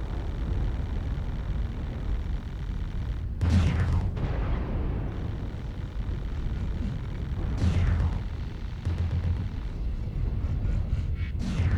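Airstrike explosions in the mech combat video game MechWarrior Online, deep rumbling booms with sweeping whooshes over a constant low battle roar, several blasts spaced apart.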